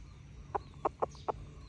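A gamecock clucks four short, soft times in quick uneven succession, close by against a quiet low background hum.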